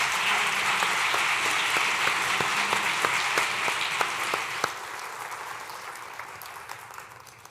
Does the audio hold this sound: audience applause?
yes